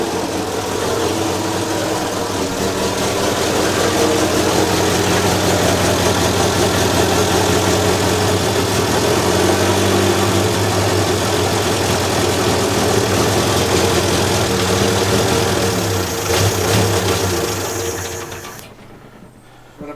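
A 1932 Morris Minor pre-war car engine idles steadily and loudly up close, a continuous mechanical chatter that holds for about eighteen seconds before cutting out near the end.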